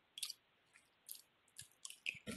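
Chewing and eating noises leaking into a town meeting call about a temporary fire station, heard as a few short, soft, wet crunchy bursts spaced irregularly across a quiet background, with no talking.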